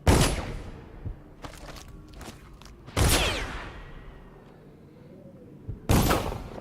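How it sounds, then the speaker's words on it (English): Gunfire in a video game as a player shoots at rats, with three loud bursts of shots several seconds apart, each fading into softer reverberation and scattered thuds. "Oh, he's shooting the rats."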